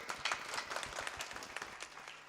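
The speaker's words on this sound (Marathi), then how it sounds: "त्यांच्यासाठी जोरदार टाळी वाजव" A crowd at a tribute gathering for a fallen soldier claps for the soldiers in a brief, fairly distant round of scattered applause.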